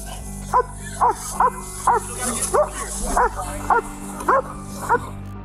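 A police dog barking during an arrest, nine sharp, evenly spaced barks about half a second apart, loud and close over a low background hum.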